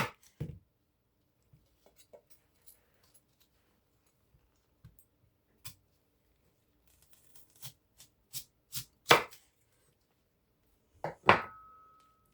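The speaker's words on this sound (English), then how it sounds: "Okay, I have my onion. I'm going to take my knife and try to cut it in three." A knife slices an onion into three pieces, giving a series of sparse, sharp cuts and taps on a board that grow louder toward the end, with quiet stretches between them and no talking.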